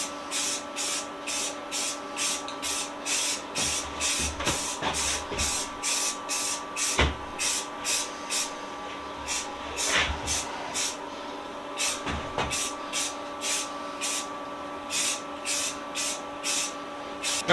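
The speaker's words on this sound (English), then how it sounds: "we're going to throw a quick coat of primer on this" Primer is sprayed onto a Hubley toy truck under restoration in short, regular hissing bursts, about two per second, fairly quiet over a steady background hum, with a few small clunks between.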